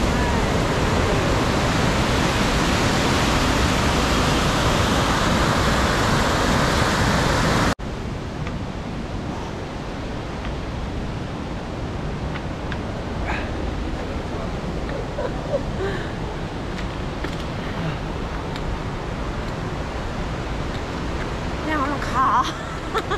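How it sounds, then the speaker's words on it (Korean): The Vernal Fall waterfall in Yosemite National Park gives a steady, dense roar that is loud and close for about eight seconds. It then cuts to a softer, more distant rush with faint voices and movement on top. "저희가 지금 버날 폭포인가 봐요."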